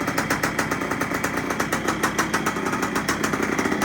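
A rebuilt 1973 Yamaha CT3 motorcycle engine running for the first time, a rapid, rhythmic popping exhaust beat at a steady idle, close and clear with no one talking.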